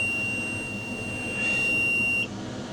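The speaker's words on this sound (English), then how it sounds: "you're going to hear some beeping here in a second" A tractor's warning beeper sounds before starting, holding a steady high electronic tone while the glow plug heats; it cuts off abruptly after about two seconds, with low engine-bay rumble underneath.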